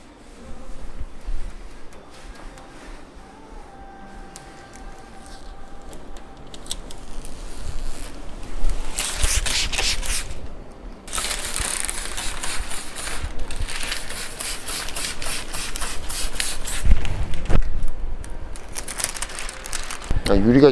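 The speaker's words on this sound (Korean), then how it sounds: "이면지를 벗겨 볼게요." Backing liner is peeled off window tint film on a Mercedes-Benz G63 AMG, producing bursts of crinkly, crackling plastic rustle at close range, separated by quieter stretches while a person talks.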